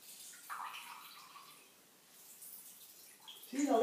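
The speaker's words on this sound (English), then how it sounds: "See, a lot of water is still coming out." Water squeezed from freshly cut cucumber noodles trickles and splashes faintly in short bursts, nearby and quiet, with a louder splash at the end.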